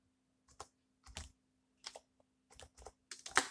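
Typing a search query for a product on AliExpress on a computer keyboard: short, close bursts of rapid key clicks separated by brief pauses, with no talking.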